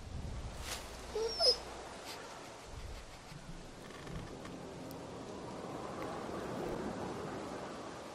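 A dog in The Walking Dead Season 2 video game gives a couple of brief, faint whimpers over a soft, steady background hiss.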